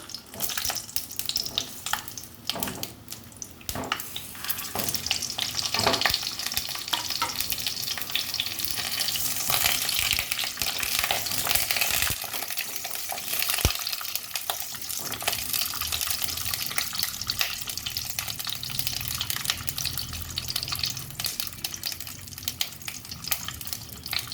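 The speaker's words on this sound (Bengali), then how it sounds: "এবার পটলগুলো এক এক করে ভেজে নেব।" Pointed gourd (potol) pieces fry in oil one by one in a home kitchen, giving a steady, broad sizzle with occasional sharper crackles and faint clinks throughout, with no talking.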